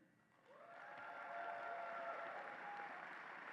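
Commencement crowd applauding pharmacy valedictorians in a large hall, a dense wash of clapping that swells up after half a second and holds steady, distant and fairly soft.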